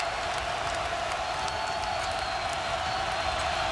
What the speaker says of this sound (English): Crowd gets a little lift.